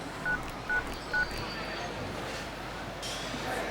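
Three short, evenly spaced telephone keypad tones beep as a number is dialed, clear against a quiet indoor background, with a soft rustle later on.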